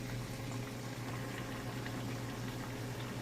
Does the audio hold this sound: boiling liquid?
yes